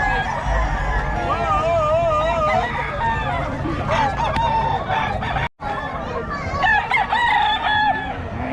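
Chickens, including a hen, cluck and crow repeatedly nearby on a farm, with a rooster's calls rising over a busy background, briefly cut off before the birds resume.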